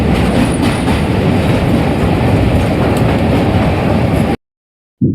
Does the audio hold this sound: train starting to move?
yes